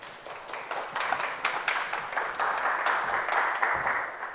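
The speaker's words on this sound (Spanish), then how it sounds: "Démosle un fuerte aplauso" Audience applause at an astronomy talk for a UNAM institute researcher, distinct claps that start sparse and build into a fuller, steady round before easing.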